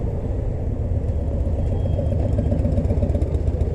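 A Harley Davidson Fatboy motorcycle engine idles close by on an open road, a steady low rumbling throb with even loudness throughout and no talk.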